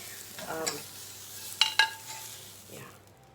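Zucchini searing in a pan gives a soft background sizzle, and two sharp metallic clinks from utensils stand out along with a few stirring scrapes.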